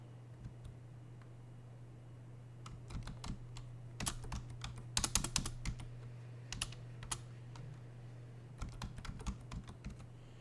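Keystrokes on a computer keyboard as a Linux command is typed, a run of quick clicks in short irregular bursts over a steady low hum, close and fairly quiet.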